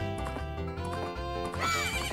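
Epona the horse neighs in The Legend of Zelda: Majora's Mask, a loud synthesized whinny with a rising cry near the end over steady game music.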